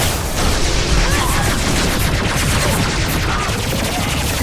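Gunfire from the video game Mass Effect 2, a dense, continuous, loud burst of rapid shots that never lets up.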